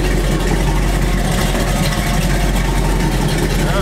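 A car engine idling after an alternator repair, a steady loud low rumble with a constant hum that holds evenly throughout, close by and with no voices.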